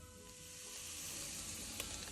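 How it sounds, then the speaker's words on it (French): Butter sizzles in a frying pan on the stove with a faint but steady, even crackling hiss that continues without a break, with one small pop near the end. "Quand le beurre commence à chanter, on va y faire rissoler doucement les oignons"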